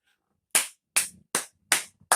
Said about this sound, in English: Round of applause for Joe Biden.